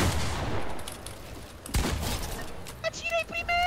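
Video game gunfire crackles in a sharp burst of shots followed by a single loud crack, with scattered lighter impacts and voices talking over the action.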